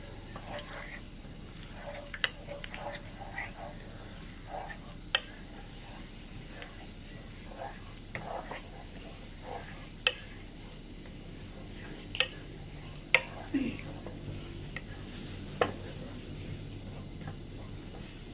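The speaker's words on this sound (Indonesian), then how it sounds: "Oke, kita tumis bumbunya." Spice paste sautés in a pan with oil, a soft, steady sizzle and crackle carrying throughout, broken by occasional sharp clicks and scrapes of stirring.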